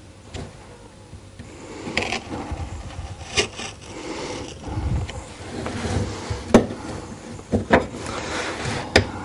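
Wooden gingerbread mold being carved with a skew knife, giving soft scraping and rubbing cuts with sharper knocks scattered through, close and fairly quiet, with no voices.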